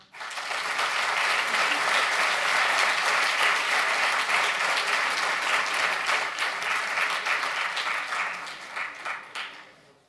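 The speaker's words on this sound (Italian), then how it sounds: "Un applauso a un operaio elettricista, Carlo Ribolla" A large crowd at a Milan political rally applauds an electrician as he steps up, giving a dense, sustained roar of clapping that stays loud throughout and thins slightly near the end.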